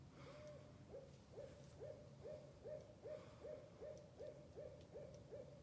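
A northern owl gives a long, evenly paced series of about a dozen short, identical hoots, faint and steady in rhythm over a quiet outdoor background.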